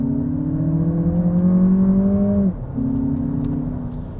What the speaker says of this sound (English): let's give this car a bit of a launch